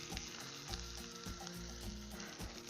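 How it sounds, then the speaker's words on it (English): Eggs for simple scrambled eggs with sausage fry in a pan over a campfire, giving a steady, close, loud sizzle that runs unbroken, with faint crackles and no voices. "So I'm going to go ahead and throw some eggs in there."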